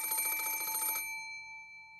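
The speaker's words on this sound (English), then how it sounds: "At that time, the phone rang." A telephone in the Umineko visual novel game rings with a rapid bell trill that stops after about a second, leaving a ringing tone that fades slowly.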